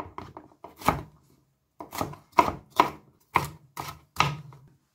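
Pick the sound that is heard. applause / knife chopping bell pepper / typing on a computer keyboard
knife chopping bell pepper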